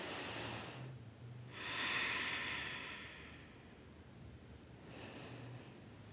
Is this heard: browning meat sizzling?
no